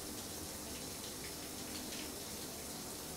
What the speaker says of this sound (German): Wir lassen auch das Wasser laufen.